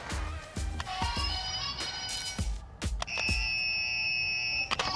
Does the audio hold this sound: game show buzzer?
yes